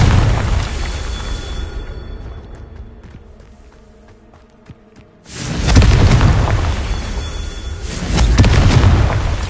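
A Confringo blasting spell in Hogwarts Legacy on PlayStation 4 Pro goes off as a loud booming explosion with a rumbling tail that fades out, followed after a quieter stretch by further heavy blasts.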